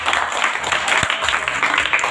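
Audience applause for a student at a school quiz event, a steady dense wash of clapping from a crowd throughout, fairly loud and continuous.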